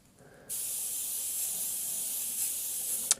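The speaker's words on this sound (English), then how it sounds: "And then when you back off with it and spray like this" Paint spray gun spraying paint: after a brief quiet moment, a steady close hiss of atomised spray runs continuously for nearly three seconds, ending with a small click.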